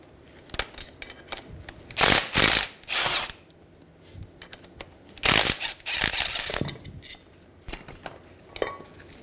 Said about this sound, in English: Using a 14 millimeter socket, separate the caliper from the caliper bracket.